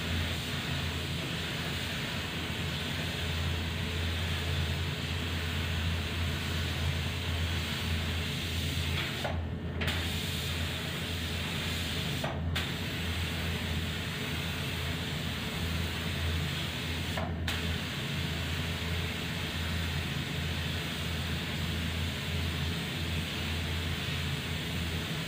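A spray gun lays down emerald green polyurethane paint in a continuous steady hiss with a blower running, broken by three brief cut-offs where the trigger releases.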